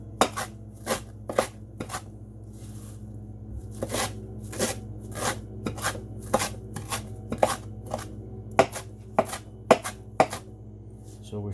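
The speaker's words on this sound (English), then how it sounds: "So we're starting with 3 bunches of parsley. Get this minced up." Knife chopping three bunches of parsley on a board for tabouleh, a long run of crisp, sharp rhythmic cuts at close range, some quick bursts and brief pauses, over a faint steady hum.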